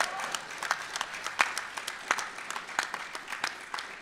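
Audience applause at a veterans and military families council event, steady clapping with sharp individual claps standing out, moderately near and lasting the whole span without speech.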